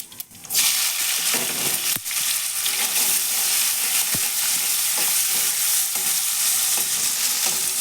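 Two large long-sliced onions hit hot oil after cumin in a pan for a pumpkin curry, sizzling steadily and loudly throughout, with scattered scraping and clinking from stirring, close up and without talk.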